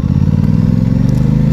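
An Aprilia Tuono 660 (2021, A2-restricted) ridden through town, its engine holding a steady, loud low drone with a pulsing rhythm and light mechanical clatter, close and continuous throughout, with no voice over it.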